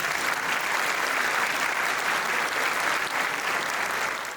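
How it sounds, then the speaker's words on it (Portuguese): Audience applause for an orchestra at the swearing-in ceremony of a state public prosecutor general, a steady, dense wash of many hands clapping that holds loud for about four seconds before starting to fade. "uma salva de palmas para a nossa orquestra"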